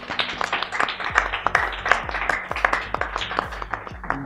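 Scattered clapping from a studio audience welcoming a singer on stage at an Eid ul Azha show, steady sharp claps at moderate loudness with no voices over them.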